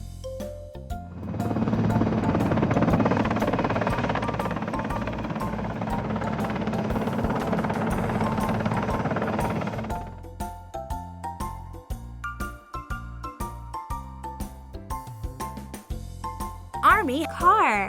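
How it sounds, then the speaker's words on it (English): Toy army transport helicopter, a loud whirring rotor noise for several seconds, then giving way to a plinking jingle tune. "Army transport helicopter."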